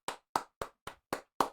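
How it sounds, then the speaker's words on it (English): A few people in a small online game-show group clap six quick, evenly spaced times, each clap short and sharp with a brief decay, with no voices over it. "get a round of applause"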